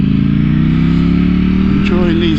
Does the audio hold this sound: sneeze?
no